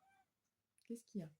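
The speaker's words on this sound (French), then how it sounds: "c'est mon chat qui réclame de l'attention." A domestic cat meows for attention indoors, two close, fairly loud meows coming just after a brief spoken question from a woman.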